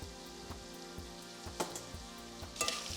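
Jumbo lobster tails frying meat side down in a cast iron pan with butter, a quiet steady sizzle broken by a few sharper pops and spits, with no talking.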